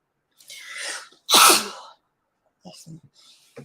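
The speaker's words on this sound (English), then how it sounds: "excuse me, I'm going to sneeze" A single loud, explosive sneeze up close, preceded by a sharp intake of breath and followed by a few quiet murmured words.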